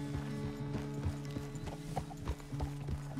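Horse hooves clip-clopping in Red Dead Redemption 2, a steady walking rhythm of hoof strikes over a low tonal game background and faint tack noise.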